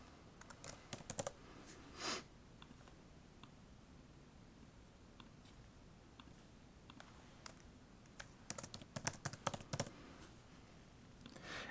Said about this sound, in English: let's type in like and subscribe really quick